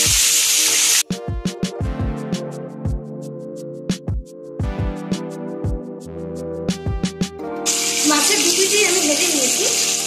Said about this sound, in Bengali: মাছের এক পিস আমি ভালোভাবে ভেজে নেব